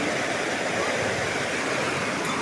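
Water rushes steadily through a channel at a park, a dense, continuous broadband flow close by and fairly loud, unbroken for the whole span.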